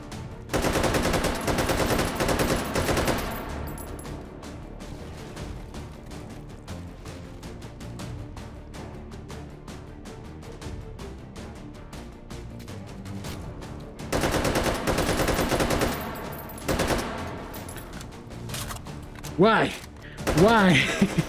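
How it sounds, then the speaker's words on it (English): Bursts of AKM rifle gunfire in the VR shooter Hot Dogs, Horseshoes & Hand Grenades: loud rapid automatic volleys at the start and again near the end, with quieter scattered shots and handling clatter between them. "Let's switch over to the AKM."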